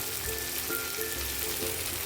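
Potato and eggplant frying in a pan as red chili powder is added, a continuous close sizzle with soft stirring in a home kitchen, no voices.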